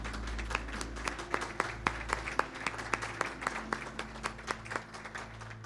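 Applause from an audience at a fire temple community gathering, a dense patter of hand claps that stays fairly steady for several seconds, with a few sharper individual claps standing out near the front.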